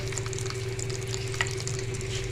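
Garlic and ginger pieces fry in a pan of leftover fish-frying oil, giving a steady close sizzle with scattered crackles and pops over a low background hum.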